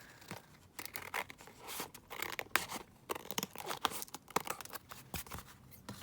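Scissors cutting alcohol ink background paper into a tag, a close, quiet series of irregular snips and crisp paper rustles continuing throughout without talking.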